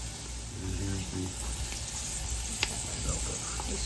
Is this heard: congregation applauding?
no